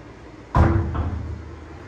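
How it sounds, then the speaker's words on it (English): A sliding glass shower door in a hotel bathroom is pulled open with a sudden loud thud and rattle, then a rolling rumble that slowly fades, heard alone and close. "let's open the shower door."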